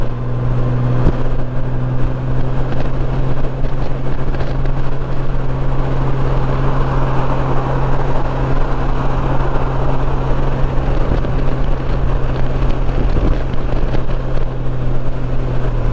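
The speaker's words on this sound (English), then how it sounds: "Man, it's getting windy out here." Steady, loud wind buffeting the microphone over a low droning cruiser motorcycle engine hum on a highway, continuous throughout with no pauses.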